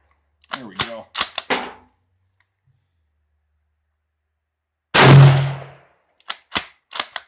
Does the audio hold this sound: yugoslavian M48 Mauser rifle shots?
yes